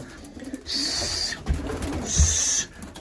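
Pigeons coo in a coop, two drawn-out calls with soft low rumbling between them, close and moderately loud with no talking.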